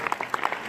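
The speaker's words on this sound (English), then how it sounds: "A round of applause, please, ladies and gentlemen." Audience applause at an evening award ceremony, a dense patter of hand claps throughout a short burst at moderate level with no voices over it.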